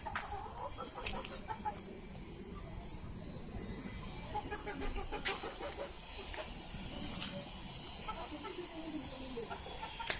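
Hens and roosters cluck in a backyard flock on a cold day, scattered short clucks and calls at close range over a rustling, busy background, no speech heard.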